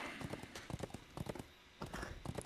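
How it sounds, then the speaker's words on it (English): Rhythmic clip-clop of a horse's hooves while riding in the Lord of the Rings Online game in West Rohan, a quick regular gallop of hoofbeats close and clear, with a brief lull midway before the steps resume. "I'm going to jump on my horse."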